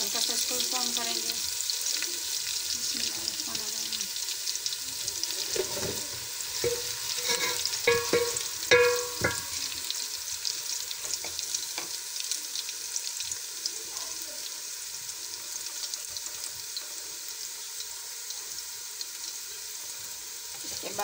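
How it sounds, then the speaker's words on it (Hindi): Cumin seeds browning in hot oil, a continuous fine crackling sizzle held at moderate level for about twenty seconds, with occasional light stirring clinks and no voices. "इसके साथ ही हम जीरा भी ऐड करेंगे। इसमें इसको हल्का सा इसको ब्राउन करेंगे।"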